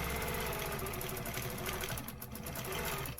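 A sewing machine stitches vertical lines across a quilt in one continuous, rapid, whirring run, close and loud, slowing slightly near the end, with no talking.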